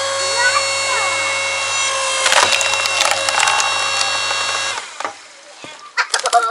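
A Champion log splitter forcing apart a birch firewood log: a steady motor drone with loud cracking and splintering of the wood in the middle, then the drone cuts off and knocks and thuds follow.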